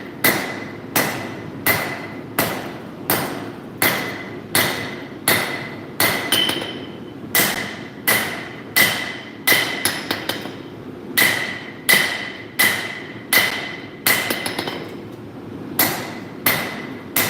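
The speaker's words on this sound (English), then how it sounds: "I'm forging" A smith forges metal with a hammer, striking in a steady, ringing rhythm of sharp blows roughly once every half-second to second, loud and close, with a few brief pauses and quick double taps.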